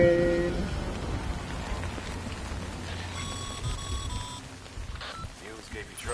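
Steady rain in the video game Death Stranding, a dense continuous patter under game tones and beeps, fairly loud throughout.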